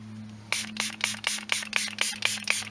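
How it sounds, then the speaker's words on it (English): Auto Brite gloss enhancer is sprayed onto a cloth in a quick run of about nine close, crisp trigger spritzes at an even, rapid pace. "Let's see if I can spray it onto the cloth."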